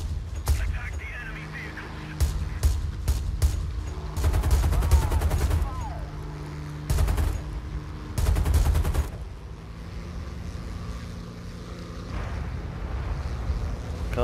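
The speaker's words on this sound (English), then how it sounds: "Let's fire some regular cannon rounds at this guy." Aircraft cannons fire in the War Thunder video game as several rapid bursts of rattling shots over a constant engine and wind roar, with someone talking in between.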